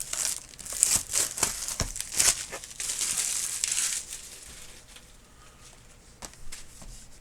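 Foil Magic: The Gathering booster pack from Outlaws of Thunder Junction being ripped open up close, with bursts of crinkling and tearing wrapper over about seven seconds, loud at first and fading into softer rustling.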